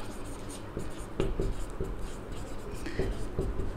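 Chalk or marker strokes on a board during a physics lesson come through as short scratchy taps and strokes in an irregular rhythm, close and moderately quiet, with a faint voice in the background.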